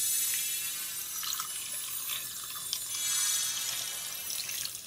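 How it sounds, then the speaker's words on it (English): Water pours from a tap into a pot of chopped vegetables, including purple potatoes, as a steady close splashing flow for a few seconds. "So I'm just adding the water to cover the vegetables."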